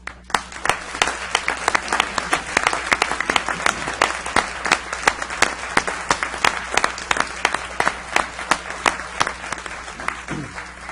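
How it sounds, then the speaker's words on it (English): Steady applause from a crowd at a city council meeting, many hands clapping with sharp individual claps standing out, continuing throughout at a moderate distance. "please, a round of applause for Regina Little League"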